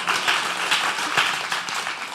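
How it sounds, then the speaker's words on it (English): A short burst of applause rises from a panel audience, many hands clapping at moderate loudness for a couple of seconds before thinning out. "round of applause for that"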